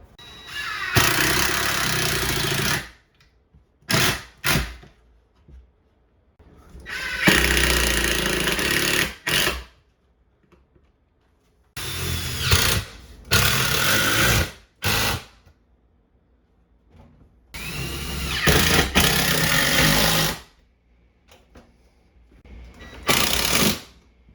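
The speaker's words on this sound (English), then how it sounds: "So we are using an impact driver." An impact driver hammers screws into wall cabinets in loud rattling bursts, several long runs and short blips separated by silent pauses.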